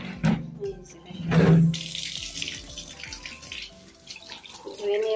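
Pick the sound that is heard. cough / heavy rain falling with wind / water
water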